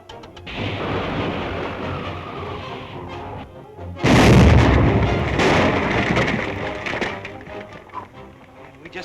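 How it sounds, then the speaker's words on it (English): An explosion in a secret tunnel from an old Dick Tracy serial booms out after a rumbling buildup, a loud sudden blast that rolls and crackles with debris before slowly fading. "Spider will think we've been killed by the explosion"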